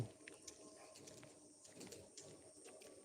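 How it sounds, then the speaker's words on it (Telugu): Pigeon coos softly in a morning setting, low repeated calls set against steady background hiss, with faint chirps and sounds of movement nearby. "ఓ పావురం సౌండ్ చేస్తుంది"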